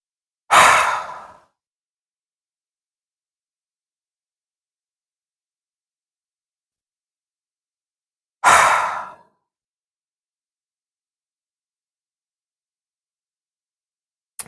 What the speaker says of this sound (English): Let's give it some dragon's breath, some breaths of fire.